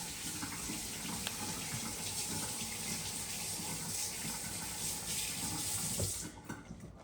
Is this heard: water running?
yes